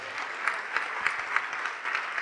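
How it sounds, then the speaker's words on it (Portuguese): A church congregation applauding together, a dense steady patter of many hands clapping with slight rhythmic pulses, moderately distant and sustained throughout. "vamos aplaudir mais"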